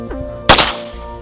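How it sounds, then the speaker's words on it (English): A single loud handgun shot fired at an egg target outdoors, a sharp crack with a brief ringing decay, heard alone. "So now that we shot our first target, the soda, we're gonna shoot an egg."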